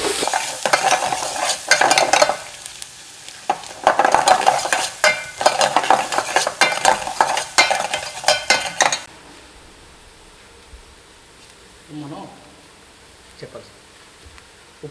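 Onions sizzle as they fry in a pan and a utensil stirs them, scraping and clinking against the metal in repeated bursts, then the frying fades to a quieter hiss with faint clinks.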